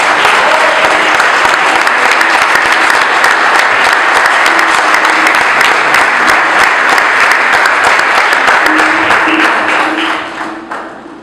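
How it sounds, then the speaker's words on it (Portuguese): A congregation at a youth church service breaks into loud, sustained applause for Jesus, dense clapping from many hands filling the room close and full before trailing off near the end, with faint voices underneath. "E isso vale uma salva de palmas"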